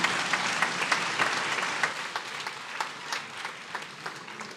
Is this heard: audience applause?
yes